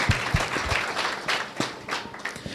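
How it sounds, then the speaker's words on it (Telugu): A church congregation claps loudly and briskly, a dense burst of applause with a few sharper individual claps standing out. "చప్పట్లు కొట్టడం బిగ్గరగా."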